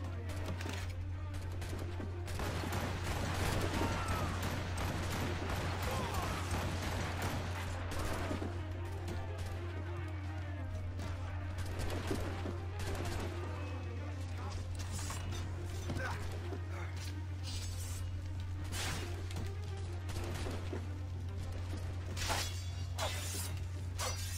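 A ship battle in Assassin's Creed Rogue rattles with dense, rapid gunfire and sharp cracking bursts over a low continuous rumble. The shots go on nonstop and fairly loud for the whole stretch, with occasional voices mixed in.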